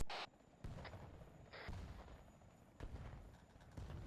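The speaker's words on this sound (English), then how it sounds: "Explosions north of the chapel." Explosions sound in a military video game, several distant booming blasts with sharp onsets and rumbling tails spread across the span, fairly faint and without talk.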